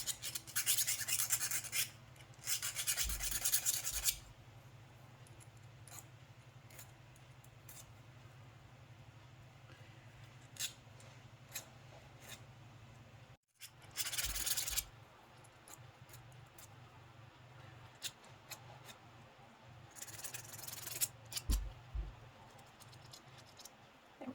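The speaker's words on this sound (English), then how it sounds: "Now I'm going to go along and smooth the edges again." Metal smoothing tool rubbed and rasped along the edges of a copper blank, several close bursts of scraping separated by quieter gaps, with no talking.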